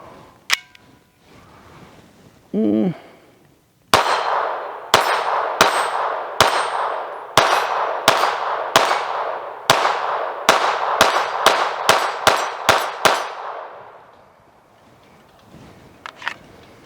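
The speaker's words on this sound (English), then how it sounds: "I want to run some regular ammo through it." A Kel Tec P17 pistol fires regular ammunition in a rapid string of about a dozen sharp, loud cracks with short ringing tails, the pace quickening toward the end, after a brief mechanical sound and before quiet returns.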